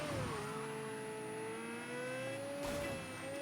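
A turbocharged car engine in the Mafia III video game holds a steady drone with a thin high-pitched whine running across the top, and a short burst of louder noise comes near the end.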